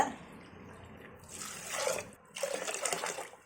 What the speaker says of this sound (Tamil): இப்போ 2 டம்ளர் தண்ணி ஊற்றிக்கலாங்க.